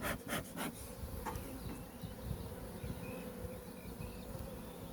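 Young, fluffy grey honey bees hum in a steady, dense drone at an open hive during a spring colony inspection, with a few sharper clicks and knocks near the start.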